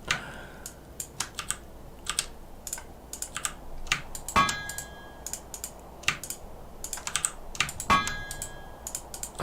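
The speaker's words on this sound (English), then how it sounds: "You like the keyboard and the mouse sounds are relaxing." Steady computer keyboard typing with scattered sharp mouse clicks, close and fairly quiet, during a live TerraFirmaCraft game session; irregular bursts of keystrokes run throughout with no talking.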